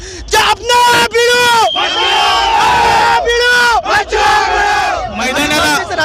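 A large crowd at a political rally at Nehru Stadium, Amravati, chants and yells in loud rhythmic unison, voices rising and falling in repeated bursts, close and energetic.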